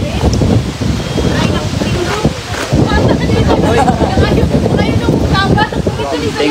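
Strong wind blowing hard outdoors near the water in the Netherlands, a steady loud roar and buffeting against the microphone throughout, with people talking over it.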